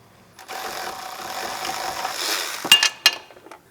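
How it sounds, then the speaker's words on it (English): An electric ratchet whirs steadily on a starter bolt of a 2015 Chrysler 200, ending in a couple of sharp metallic clicks and clinks close by. "I'm going to try to use an electric ratchet on it and see can I get it out."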